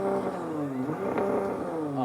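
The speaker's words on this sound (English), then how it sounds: "Let's turn on the car." A 2024 Porsche Cayenne performance SUV engine fires up and revs, its pitch rising and falling with a throaty, steady roar that stays loud and close throughout.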